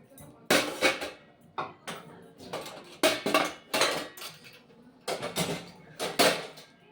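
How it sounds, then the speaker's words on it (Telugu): Dishes, pots and pans being washed at a home sink, with a series of close clattering knocks and scrapes of metal utensils coming in irregular bursts, no talking. "నేనైతే వెంటనే గిన్నెలనైతే వాష్ చేసేసుకుంటాను."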